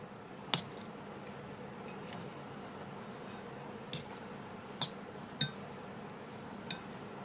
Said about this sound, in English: And then we will mix it. Just slightly mix it.